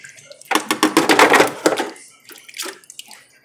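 Instant Pot cooked cube steak and its liquid are poured into a pan, giving a close, loud splashing gush for about a second and a half that trails off into a few smaller drips and pours.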